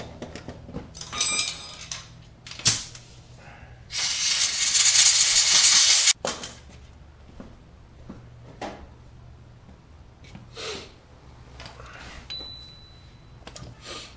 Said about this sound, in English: I like to dry them out also with some compressed air